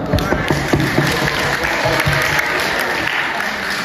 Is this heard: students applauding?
yes